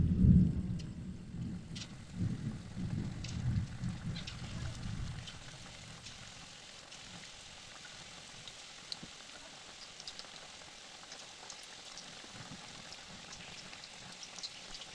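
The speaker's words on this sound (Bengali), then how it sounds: "তো এরপর একটি একটি করে পকোড়াগুলি এই তেলের মতো ছেড়ে দেবো।" Chicken 65 pakoras frying in hot white oil in a kadai, a loud dense sizzle and crackle for the first five seconds that then drops to a faint, steady bubbling hiss.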